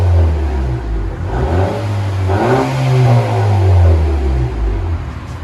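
A Honda Accord 2.0L turbo engine with straight pipes revs up and settles, a loud close deep exhaust roar swelling in pitch and easing back with slight clatter, no talk over it.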